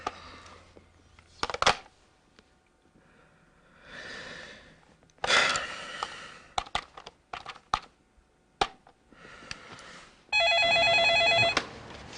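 A telephone rings for a phone call, a loud electronic trill near the end, after scattered clicks, rustles and a breathy sigh in a quiet room.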